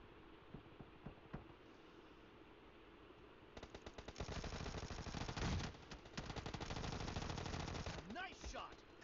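Rapid automatic gunfire in a PUBG team deathmatch, a dense rattling stream of shots that starts midway and keeps going to the end, with scattered single shots and faint game noise before it.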